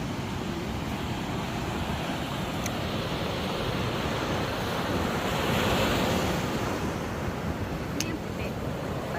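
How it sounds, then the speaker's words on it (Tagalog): Strong sea waves crash and roll on a shore in a continuous loud surf roar, with gusting wind buffeting the microphone throughout and no clear talk. "Lakas ng alon."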